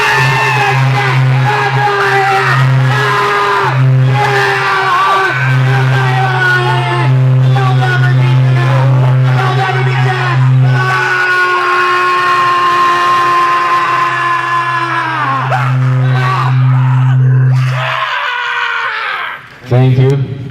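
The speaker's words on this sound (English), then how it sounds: "Yell at a bottle of whiskey." At a noise music show, people yell long sustained, strained howls at a bottle of whiskey, loud and close, with the voices holding steady pitches before breaking off near the end.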